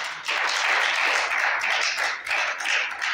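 A congregation claps together in praise during a church sermon, a loud dense wash of many hands that runs throughout with slight swells and dips and no talking over it.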